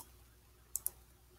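Computer mouse clicking through File menu items, two quick close clicks in a quiet room.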